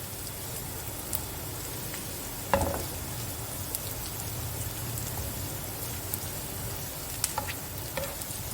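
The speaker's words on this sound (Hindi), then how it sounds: "प्याज को आपने हल्का सा गोल्डन करना है, आंच को धीमा नहीं रखना" Onions fry in a pot over high heat, giving a steady crackling sizzle throughout with a few louder pops and clinks of stirring near the start and end.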